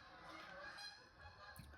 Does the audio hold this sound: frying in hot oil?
no